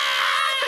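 Someone imitates a screaming goat with a short, strained, high-pitched vocal shriek that rises and wavers, loud and close, heard alone.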